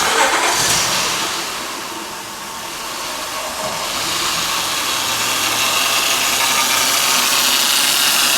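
A Honda car engine, following a power steering pump rebuild, starts with a loud burst and then settles into a steady mid-pitched running hum with a faint mechanical whine underneath.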